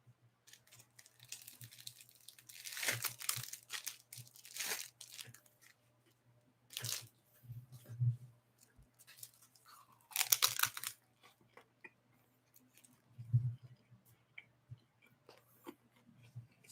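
Crunchy bites and wet chewing of a Korean triangle kimbap (samgak kimbap), close to the mouth, in irregular bursts with quiet gaps between, alone without talk.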